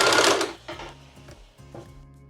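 A sewing machine stitches along a tablecloth's fabric edge in close, loud bursts, a long busy run at first and then several shorter stitching spurts separated by brief pauses.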